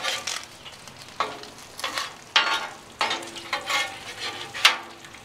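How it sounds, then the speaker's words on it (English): Bacon frying on a Blackstone flat top griddle, a soft continuous sizzle broken by repeated hissing bursts and scraping as strips are moved, close up with no talking. "All right, get this bacon cooked up."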